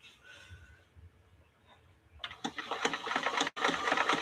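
A vintage Kenmore sewing machine runs close and loud, stitching in a rapid mechanical chatter for about two seconds, with a brief pause, after a quiet stretch.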